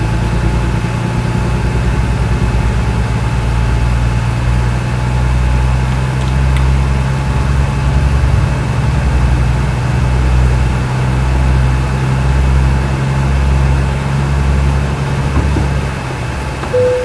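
A heavy truck engine idles steadily in American Truck Simulator, a low continuous rumble with a faint tonal hum, loud and even throughout without a break.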